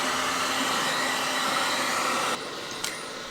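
A hair dryer blows steadily and loudly, drying hair at close range, then drops to a slightly lower, softer setting partway through with a brief knock near the end.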